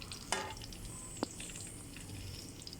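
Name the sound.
frying and flipping banana slices for banana cue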